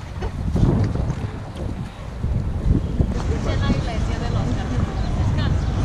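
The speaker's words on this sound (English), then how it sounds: "the wind." Wind buffets the microphone outdoors in Porto, Portugal, near the port wine cellars, a loud, steady low rumble that gusts and persists throughout with no clear speech.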